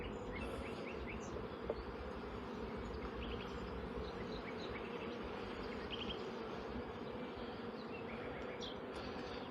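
Honeybees buzz steadily around an open hive during an acacia honey harvest, a dense continuous drone with individual bees passing close by, and faint bird chirps sound in the background.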